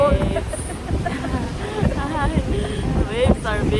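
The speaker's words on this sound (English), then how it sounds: "The waves are big and so windy and cold." Strong, cold wind blows across White Rock beach in BC, where big waves roll in, a gusty low rumble against the microphone running under steady talking.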